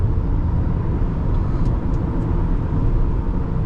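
A 2009 Toyota Camry XLE V6 pulling on the highway, heard as a dense, steady engine and road roar at close range with no talk.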